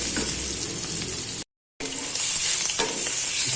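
Bicol express with chicken liver and gizzard sizzles in a pan as it is stirred, a close, bright frying hiss with a few scrapes, broken by a brief moment of silence.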